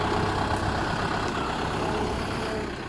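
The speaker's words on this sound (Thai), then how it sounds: "รถไถใหญ่" A large farm tractor's diesel engine runs steadily and loudly close by in a sugarcane field, a constant rumbling drone without speech.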